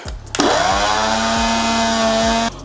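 A mixer grinder blends a mass gainer shake, starting abruptly into a loud, steady, high-pitched motor whine for about two seconds before cutting off, with no one talking.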